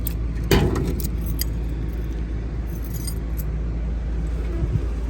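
Car keys for a 1967 Chevrolet Chevelle jingle briefly nearby, one sharp metallic clink followed by lighter rattles over a steady background rumble.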